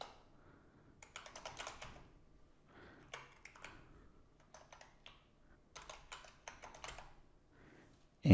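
Computer keyboard typing a hostname, close and fairly quiet, in short clattering bursts of keystrokes with brief pauses between them and a single louder key press at the very end.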